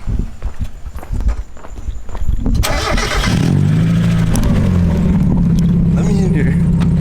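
A Mazda NA Miata engine cranks and catches, then settles into a loud, rumbling idle through a noisy exhaust, close by, after a few seconds of footsteps and shuffling in a neighborhood street.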